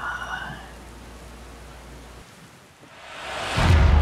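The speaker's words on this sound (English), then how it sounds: "It's just non-stop rain." Steady hiss of rain at Cloudland Canyon State Park, Georgia, fills the clip, easing briefly before swelling louder again with a heavy rumble at the end.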